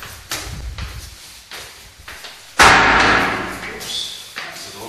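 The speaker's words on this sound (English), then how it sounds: "Oops, that's the door. That's banging." Inside a townhouse, a door bangs with a sharp, loud slam, preceded by several softer thumps and footstep-like knocks.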